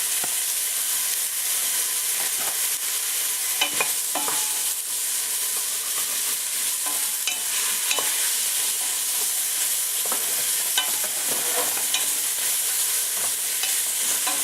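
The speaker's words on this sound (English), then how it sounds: "Kind of saute these, cook these a little bit" Vegetables sauté in extra virgin olive oil in a pan for a chuck roast with vegetables, a steady close sizzle broken by occasional stirring scrapes and clinks, with no talking.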